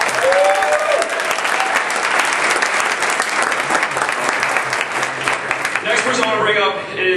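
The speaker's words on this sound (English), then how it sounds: "can we give Kirk another big round of applause" Sustained, loud audience applause with steady clapping runs nearly the whole way, easing off in the last second as a voice starts to talk.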